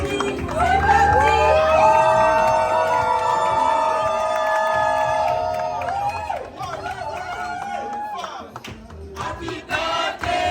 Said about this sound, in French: Allons-y, c'est vos acclamations.